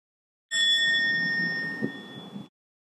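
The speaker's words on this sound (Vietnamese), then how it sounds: "sau đó mình mới thỉnh một tiếng chuông" A Buddhist temple bell is struck once and rings out in a clear, sustained tone that slowly fades over about two seconds, alone in a quiet setting.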